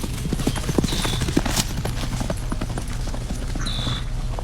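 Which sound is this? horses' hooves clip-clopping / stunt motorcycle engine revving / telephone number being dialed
horses' hooves clip-clopping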